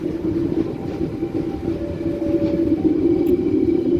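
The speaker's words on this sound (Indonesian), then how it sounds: "Ini dia kita melintas perlintasan di Tawang" KA Gumarang passenger train rolling across a level crossing at Tawang, Semarang, a steady loud low rumble heard from onboard with faint rail noise and no talking.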